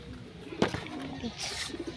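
Soft low cooing from pigeons kept in a backyard loft, faint and close, with a brief knock partway through and low background noise.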